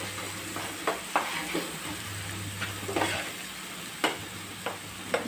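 Onions fry in a pan on a gas stove at low heat, a steady soft sizzle broken by occasional stirring clinks and scrapes, with no talking.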